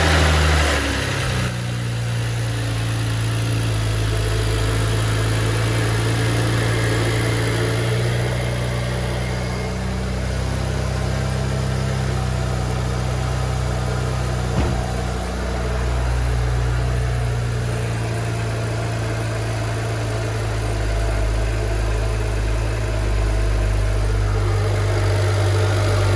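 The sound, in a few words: car engine idling after oil cooler install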